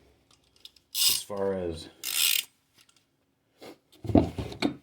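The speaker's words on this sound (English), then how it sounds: "I'm going to be using a pipe wrench." A pipe wrench turns on the ball joint of a Polaris Sportsman 500 ATV, giving close, loud grinding and ratcheting scrapes in separate bursts, with a brief spoken remark between them.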